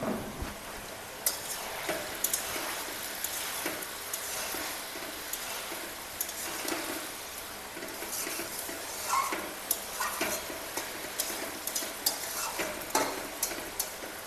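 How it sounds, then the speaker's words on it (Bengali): Potatoes and a fish head go into a simmering banana flower curry in a village kitchen, giving a steady bubbling sizzle with scattered clinks and stirring scrapes throughout, no voices. "আলুটা দিয়ে দিচ্ছি, সঙ্গে মাছের মাথাটাও দিচ্ছি।"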